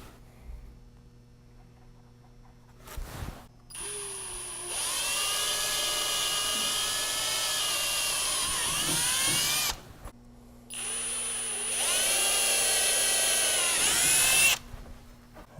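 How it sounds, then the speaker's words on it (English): A power drill bores holes into an Africa Twin motorcycle fender mount in two sustained, whining bursts, each speeding up and then slowing near the end, with a short pause between them, close and loud. "And we're just going to drill a little bit here."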